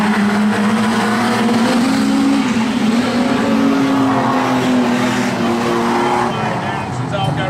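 Street stock race cars roar around the hairpin corner of a speedway, a loud continuous engine drone that rises and falls as they pass, with a commentator talking over it.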